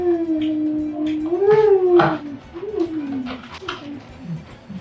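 Dogs howling at home in a long, wavering, rising and falling howl that holds for a few seconds, with a second shorter howl after it, fairly close and moderately loud over faint room noise.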